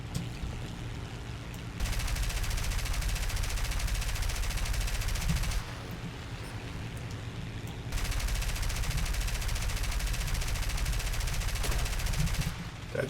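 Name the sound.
gunfire in War Thunder video game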